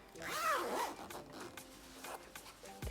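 A zipper on a sewn prom dress is pulled by hand, with a quick rasping zip followed by a few lighter, scattered zipping strokes close up in a quiet room.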